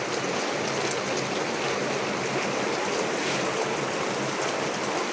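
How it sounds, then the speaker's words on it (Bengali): Water sprinklers spray over the roof of a laying-hen shed holding 3,000 chickens, making a steady, dense rain-like hiss that runs evenly for the whole stretch with no voices. "উপরে পানি ফোয়ারা দিছি যাতে ওয়েদারটা ভিতরে গরমটা যাতে না হয়, ঠান্ডা থাকে, এই জন্য পানি দিছি। পানি চলতেছে।"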